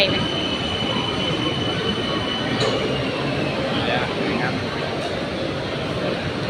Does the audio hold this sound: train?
yes